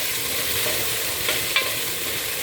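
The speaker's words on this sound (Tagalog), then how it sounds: "ilagay natin itong ating karne" Ground pork hits a pan of browned onion and garlic and fries with a dense, even sizzle, close up, with a couple of brief scraping stirs and no voices.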